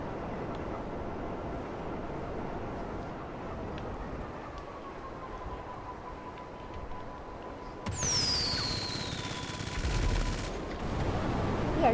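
Machine guns on the Oppressor Mk II hover bike in GTA 5 rattle in dense, sustained bursts over a steady engine drone, growing louder and harsher toward the end with sharp whining streaks layered on top.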